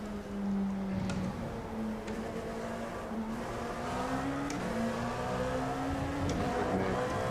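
A Corvette race car in iRacing at Hockenheim drones steadily near and loud, its engine pitch climbing through gears with brief shifts, sustained over the whole stretch.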